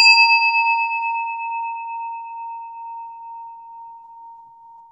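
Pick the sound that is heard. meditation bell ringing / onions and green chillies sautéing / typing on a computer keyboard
meditation bell ringing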